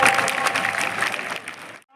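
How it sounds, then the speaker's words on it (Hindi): An audience applauds honoured students at a community award function, a dense sustained round of clapping that stays loud and even before cutting off abruptly near the end. "तो एक बार जोरदार तालियों के साथ में इन बच्चों का एक बार"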